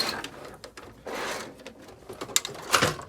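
Workshop storage drawers full of small parts such as washers, clips and connectors are pulled out quickly, producing a few short sliding rattles and clunks with metallic jingles of loose parts, close and fairly loud.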